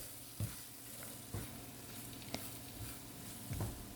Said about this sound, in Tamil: இப்போது இதை வந்து நல்லா வந்து மிக்ஸ் பண்ணி விட்டுக்கலாம்.